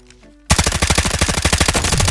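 Rapid automatic gunfire in the mobile shooter Delta Force Mobile, a loud, dense burst of evenly spaced shots that starts suddenly after a brief quiet moment and continues without pause.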